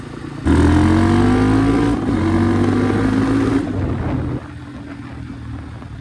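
A Honda Hawk 250 motorcycle in supermoto trim pulls away close by, its engine revving up steadily through two gears with rising pitch, then easing off to a lower steady drone as it cruises.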